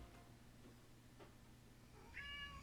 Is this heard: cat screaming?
yes